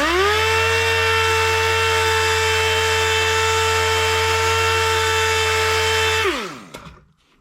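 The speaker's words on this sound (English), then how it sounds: "we're going to sand all the roughness out of here" A power sander works welded, cracked ATV plastic with 120 grit paper, a loud, steady motor whine holding for about six seconds before spinning down and fading out.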